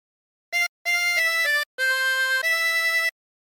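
Harmonica plays a short melodic phrase from the Indonesian folk song Ampar-ampar Pisang: a brief opening note, a pause, then a run of connected notes shifting pitch, a gap and two longer held tones, close and clean with no talking.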